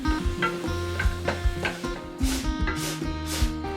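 Sliced tomatoes going into a pan with coriander and cumin powder and being stirred, with a steady sizzle and a spoon scraping in an uneven rhythm. Sharper hissing bursts rise toward the end.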